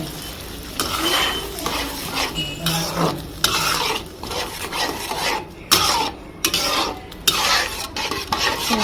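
Diced potatoes for potato dal sizzle in an oil-coated pan while a spoon scrapes and stirs them in irregular bursts, the metallic scraping sharp and close with no talk.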